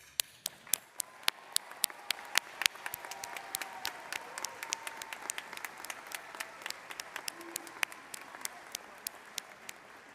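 Commencement audience at an architecture and design school applauds in a sustained wash of clapping, with sharp individual claps standing out near the front throughout, and faint voices underneath.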